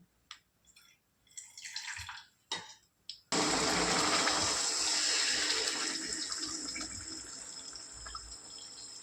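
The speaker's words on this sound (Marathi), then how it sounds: "आणि त्यात 1 ग्लास दूध घालून घेऊया आपण." Milk pours steadily into sugar in a pan, a continuous liquid rush lasting several seconds after a few brief clinks and knocks at the start.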